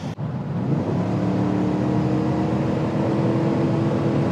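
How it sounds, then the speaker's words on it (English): A 2026 Chevy Tahoe with a V8 engine accelerates hard, its deep engine roar building and holding steady and loud for several seconds after a brief click at the start, with no talking over it. "I gotta give it an acceleration, so let me give this car some space."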